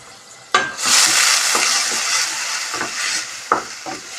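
Grated carrot sizzles in hot ghee in a pan, a bright steady frying hiss broken by several soft scraping stirs, close and alone.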